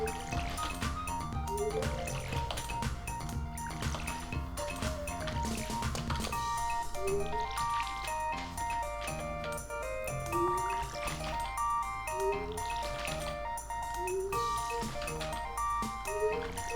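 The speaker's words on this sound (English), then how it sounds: "Go ahead and water my crops." In the farming game Stardew Valley, a watering can splashes over crops in repeated short liquid bursts with rising blips, all over cheerful background music.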